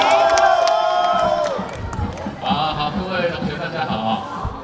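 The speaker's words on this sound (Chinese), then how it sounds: "大家掌声鼓励鼓励" Audience at a medical school department awards event cheering and shouting loudly at first, then a crowd murmur that fades and lingers with voices mixed in.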